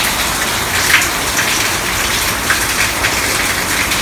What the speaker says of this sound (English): Raining a lot.